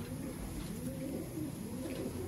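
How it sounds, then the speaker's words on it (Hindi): Low, soft cooing of a breeding Sialkoti pigeon in a steady murmur, close by, with no talking. "ये ब्रीडिंग कर रहा है कबूतर।"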